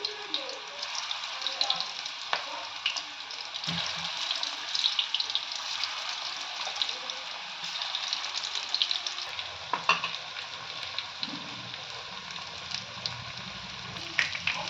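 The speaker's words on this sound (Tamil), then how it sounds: "எண்ணெய் காஞ்சிருச்சு பாருங்கள் இப்படி போட்டு பொறிச்சு எடுத்துக்கோங்க" Steady oil sizzling and crackling from mutton balls deep frying, with occasional stirring clatter and no voices.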